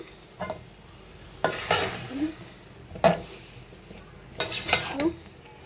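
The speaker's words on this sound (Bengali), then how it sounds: "নাড়াচাড়া দিয়ে এটাকে ঢেকে দিব, এটা আরও কষবে" A spatula scrapes through spiced vegetables with ginger paste, chili and turmeric powder in a sizzling pan, several separate stirring strokes with clinks against the metal over a faint background sizzle.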